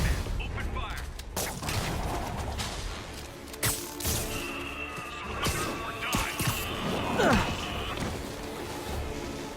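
Enemy gunfire erupts in a Spider-Man video game, sharp bursts and volleys crackling close among heavy action noise, with voices calling out over the shooting.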